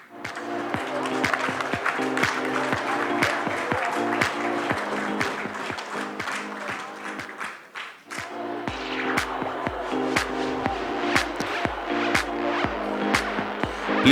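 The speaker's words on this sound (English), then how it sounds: "Please give a round of applause for Mr." A foundation day audience applauds a newly announced office bearer with long, full clapping while a steady musical tone plays underneath; a brief dip near the middle before the clapping and music swell again, with a short spoken phrase.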